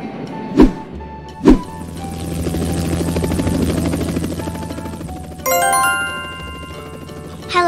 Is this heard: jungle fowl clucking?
no